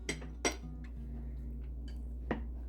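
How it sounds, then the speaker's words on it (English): A spoon stirs peanut butter fudge ingredients, chocolate and peanut butter with a pinch of salt, in a bowl, giving a few sharp, scattered clinks against the side over a quiet background. "I'm just going to stir these together."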